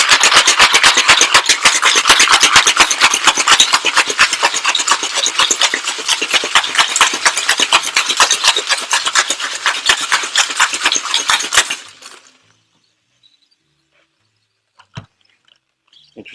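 A cocktail shaker is shaken hard for about twelve seconds, ice rattling in a fast, dense, steady rhythm up close, then stopping into near silence with a couple of faint clicks.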